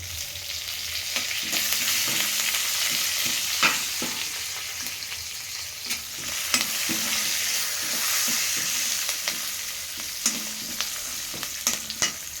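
Turmeric and curry leaves hitting hot oil for a Telugu breakfast dish, giving a continuous close crackling sizzle punctuated by repeated sharp spatula scrapes and knocks against the pan, with no voices.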